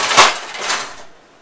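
Chunks of pressed, braised pork belly land on a sheet pan with a clattering metal knock, one sharp clank followed by a softer second contact, close and brief, then fading to quiet.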